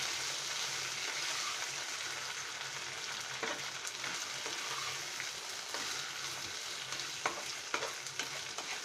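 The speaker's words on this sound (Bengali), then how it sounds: "সে ভাজাটা এটার ভিতর দিয়ে আমরা নেড়ে নেব" Steady oily sizzling in a pan with repeated scraping strokes of a spatula stirring frying spiny gourd, close and continuous.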